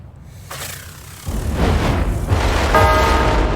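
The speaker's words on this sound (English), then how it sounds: "Oh! Explosion." A digital explosion sound effect from the Flash Point: Fire Rescue board game plays as a swelling whoosh into a heavy rumbling boom that builds over a few seconds and stays loud to the end.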